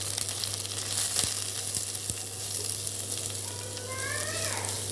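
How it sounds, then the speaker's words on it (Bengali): Finely grated carrot and slit green chillies fry in oil, making a dense, even sizzle close by, with a low steady hum underneath, a few soft knocks, and faint chirping tones near the end. "সবগুলোকে আমি তেলে কষিয়ে নেব"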